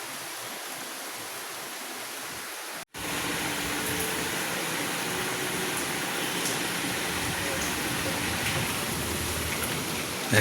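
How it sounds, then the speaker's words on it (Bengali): Steady rain pours outside a house in Bangladesh, a dense, even hiss that briefly drops out near the start and then holds at a constant level with no talking. "বাইরে বৃষ্টি নেমে গেছে"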